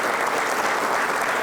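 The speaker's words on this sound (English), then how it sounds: "Thank you for that applause." Sustained applause from a dinner audience at a university hall of fame celebration, dense steady clapping filling the room throughout with no pauses.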